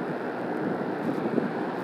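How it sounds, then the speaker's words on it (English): Electric fan running indoors, a steady soft whooshing hum of moving air that stays even throughout, with no talking. "Sorry about the fan."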